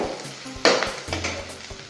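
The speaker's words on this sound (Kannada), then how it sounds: "ಸ್ವಲ್ಪ ರೋಸ್ಟ್ ಮಾಡ್ಕೊಳ್ಳಿ. ಸ್ವಲ್ಪ ಫ್ರೈ ಮಾಡಿಕೊಂಡು" Chickpeas and ivy gourd fry in a pan: a brief burst of sizzling followed by light stirring scrapes, all close and short.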